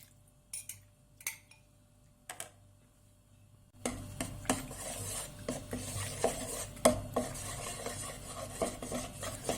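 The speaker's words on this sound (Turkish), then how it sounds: "Hiç topak kalmayacak şekilde bunu burada çırpıyoruz." Egg yolk, yogurt and flour are whisked in a bowl, starting with a few separate taps and then settling into a steady, close, rapid scraping whisk.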